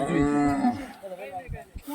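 A bull lets out a long, deep moo nearby on a dairy farm, followed by quieter rustling and a few soft low thumps.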